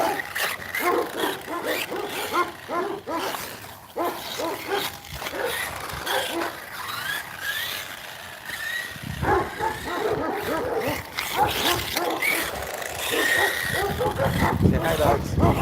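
Several dogs barking, yipping and whimpering at a riverbank RC car bash, repeated excited yelps mixed with whines under loud talking and outdoor noise throughout.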